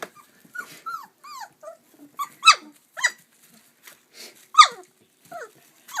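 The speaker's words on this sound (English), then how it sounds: "are you going to go potties, Orange, or are you just going to bark?" A chocolate Labrador puppy barks and yips in a string of short, sharp, high-pitched bursts with brief pauses between them, close by and fairly loud, with no other sound competing.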